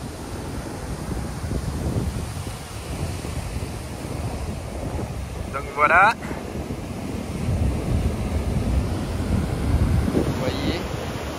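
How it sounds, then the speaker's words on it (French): Heavy swell on the shore with big waves rolling in, a steady broadband wash of surf and wind buffeting the microphone, with a brief spoken phrase in the middle. "Il y a une grosse houle, donc de belles vagues."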